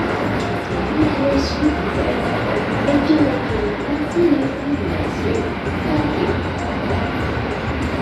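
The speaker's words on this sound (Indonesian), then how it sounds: "kereta api direct train telah tiba dengan selamat di stasiun Gambir, Jakarta" A non-stop Indonesian passenger train rumbles and rolls along the tracks with low steady noise and faint squeals, loud and close, as it slows arriving at Gambir station, Jakarta.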